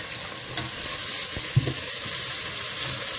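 Oil sizzles steadily in a pan while cooking poulet DG, a constant crackling hiss with a soft clink of a utensil midway.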